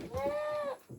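Young goats with slightly curly coats on a farm give a single drawn-out bleat, moderately close, with faint voices and barn noise around it.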